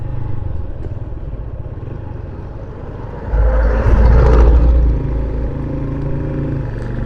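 Suzuki motorcycle engine running nearby with a steady low throb that swells louder midway, as if revved briefly, then settles back to a steady run.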